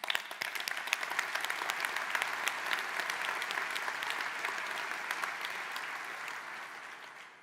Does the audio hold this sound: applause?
yes